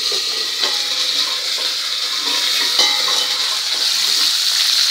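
Curry leaves fry in hot oil in a covered pan while cooking a traditional potato bhaji, giving a steady bright sizzle with scattered pops and crackles, close and loud throughout.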